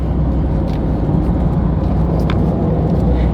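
A Ford Raptor pickup fitted with a Cobb Access Port tune drives along, giving a steady, close road and engine roar with a low rumble throughout and no talking.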